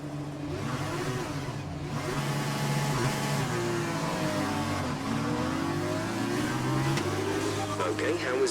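Race cars pulling away from the grid at a race start in F1 2020, F2 career with Prema Racing: layered engines revving and climbing in pitch as the pack accelerates, steady and loud throughout with gear-shift sweeps.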